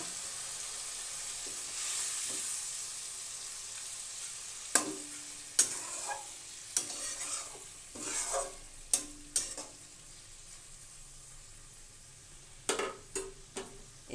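Masala stirred in hot oil in a pan for a small tengra fish curry, a quiet sizzle under a series of spaced scraping and clinking strokes from the spoon against the pan, with no talking.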